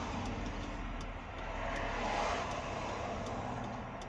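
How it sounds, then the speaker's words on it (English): Cars and trucks pass on Highway 216 in Alabama, a steady, loud rush of road noise and engine rumble that swells as a vehicle goes by, with no talking. "I'm gonna let some of these cars go by"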